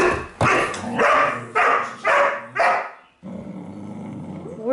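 A small dog barks sharply several times in a quick, evenly spaced series, close by, then growls softly afterward.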